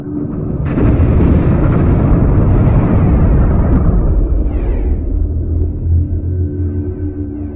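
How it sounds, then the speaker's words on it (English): A loud video game cannon blast booms out and rolls into a long, heavy rumble that slowly fades, with a lower drone continuing afterward. "The blast badly damaged the Klisan."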